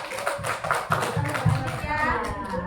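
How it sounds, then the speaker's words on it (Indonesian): Teachers and participants clap together for a teacher at a training session. The claps are scattered and fairly steady, with voices mixed in across the clip. "Tepuk tangan untuk Ibu Nurul."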